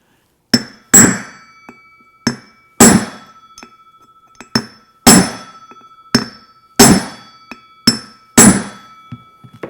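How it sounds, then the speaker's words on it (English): A hammer strikes a power steering pump pulley on a tapered shaft to shock it loose, giving sharp metallic raps in pairs with fainter light taps between them, close and loud with ringing decays. "I'm going to shock the pulley by wrapping on it, going around"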